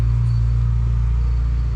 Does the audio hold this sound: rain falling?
no